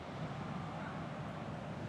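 Strong sea wind at a Chennai-area beach, a steady, dense roar buffeting the microphone without letup.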